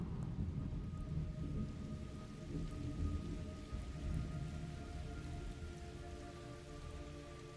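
Rain pours steadily in a video game storm, a dense continuous hiss with low rolling thunder rumbling beneath it, loud and close with no talking.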